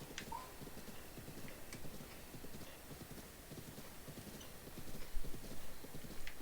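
Steady clip-clop of horse hooves trotting at an even rhythm in Breath of the Wild, with a brief whinny early on and slightly louder hoofbeats toward the end; no one speaks.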